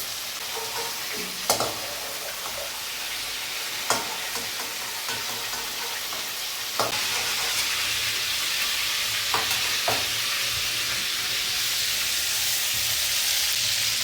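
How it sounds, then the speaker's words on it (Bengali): Shrimp lightly frying in oil in a pan, giving a steady bright sizzle throughout, with occasional stirring clinks and spatula scrapes rising slightly louder toward the end. "চিংড়ি মাছ কড়া ভাজলে শক্ত হয়ে যাবে, আমরা হালকা ভেজে নেব।"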